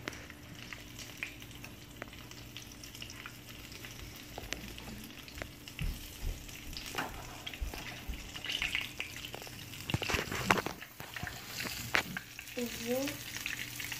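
Freshly caught fish fries in hot oil at about 350 degrees, a soft, steady sizzle with occasional crackles and utensil scrapes as it is flipped, fairly faint and close.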